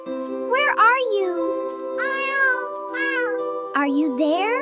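A cartoon kitten gives a series of high, drawn-out meows in quick succession, voiced by a person imitating a cat, loud and close with no other sounds.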